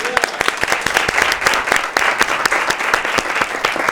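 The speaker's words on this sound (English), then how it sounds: "We should probably clap for that." A live audience at a comedy talk show claps steadily in a dense, loud round of applause with a few sharper individual claps, and no voices on top.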